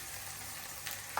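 Ground coriander and turmeric frying in a pan with green chillies, a steady soft sizzle throughout, quiet and close, with a brief stir or scrape near the end.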